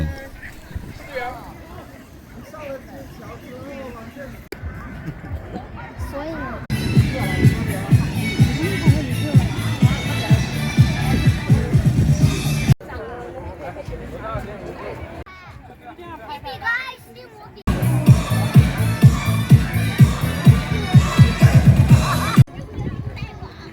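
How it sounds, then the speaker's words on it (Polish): Crowds of visitors fill a park in Shenzhen, their loud, busy chatter swelling in two long bursts. A calm voice speaks in the quieter stretches between them. "A niewielka część 20-milionowego miasta to oczywiście tłum."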